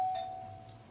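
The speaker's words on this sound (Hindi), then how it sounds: "किसकी घंटी बजी, कौन आया है?" A doorbell rings once in a home, a single clear electronic chime tone that sustains and slowly fades, heard alone without any talking.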